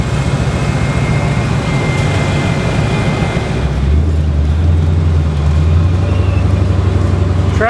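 Inside a hot rod farm truck with its interior stripped out, the engine and road noise drone loudly, then drop into a deeper, heavier rumble partway through as the truck keeps driving down the road.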